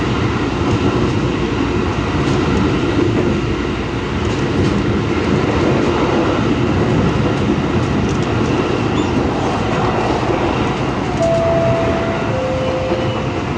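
A KRL commuter train running between Jakarta stations heard from inside the car: a loud, steady rumble of wheels and motors over rails, continuous throughout, with a faint brief squeal near the end and no talking.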